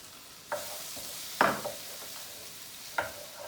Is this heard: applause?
no